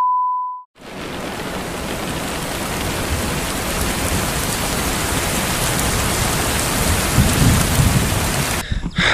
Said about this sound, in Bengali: একটা ভয়ানক বৃষ্টি শুরু হয়েছে